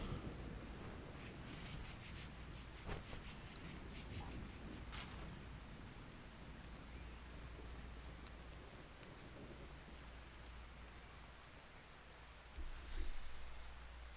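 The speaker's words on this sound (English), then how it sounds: "Is it raining? It's raining." Steady, faint rain falls in the Rimworld video game, a soft continuous hiss with an occasional low rumble and no voices.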